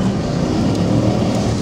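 A car drifts during winter driver training, its engine droning loud and close with a steady revving roar.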